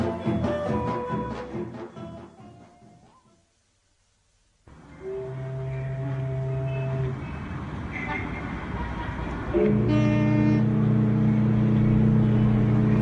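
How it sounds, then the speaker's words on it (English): Busy street traffic with repeated car horn toots and engine rumble fills the scene, breaking off briefly into near silence before returning louder, with people talking over it. "In a little while, the traffic will die away"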